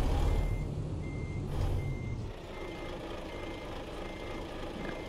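A truck's reversing beeper sounds in American Truck Simulator, giving a few regular beeps over a loud engine rumble that drops to a steadier idle.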